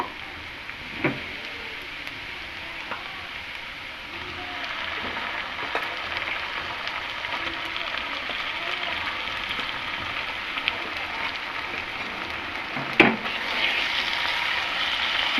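Chicken pieces frying in a pan with reddish-browned onions give a soft, steady sizzle with occasional light clanks of a utensil, moderately close and without talk.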